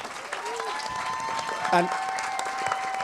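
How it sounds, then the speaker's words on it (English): Audience applause from a crowd at a Los Angeles ska event, a steady wash of clapping running under a speaker's voice for about three seconds. "give yourselves a warm round of applause"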